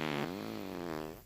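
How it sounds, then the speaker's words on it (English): A cartoon character lets out a long, buzzy, wavering fart lasting just over a second, heard close and alone. "I had a burrito. It gave me gas."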